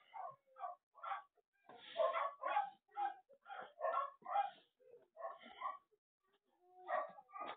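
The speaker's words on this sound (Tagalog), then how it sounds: "Tuta." A puppy yips and barks repeatedly in quick, high-pitched bursts, some short and some longer, close by and fairly loud.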